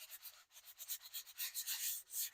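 Sandpaper rubbed back and forth across the back of a wooden workpiece, a quick run of close, scratchy strokes that grow slightly stronger toward the end, with no talk.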